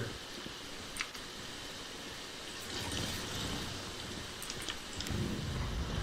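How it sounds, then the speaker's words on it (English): Steady rain falling in the video game Once Human, a constant hiss of drops with occasional louder patters, moderately close, with no voices over it. "It is always raining up in this area."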